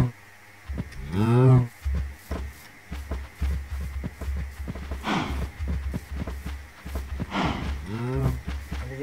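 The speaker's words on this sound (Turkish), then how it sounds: "Mandalımızda inekler var." Minecraft cows moo in a blocky farm pen, three drawn-out, fairly loud lows spaced a few seconds apart over a steady low game hum and soft clicks.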